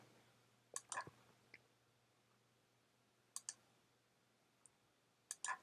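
Sharp computer mouse clicks in a quiet room while downloading a file: a quick double click, a faint single click, another close double click, a faint tick, then a final double click, all near and crisp.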